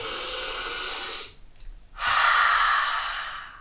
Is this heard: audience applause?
no